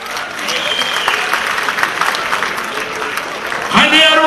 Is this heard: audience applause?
yes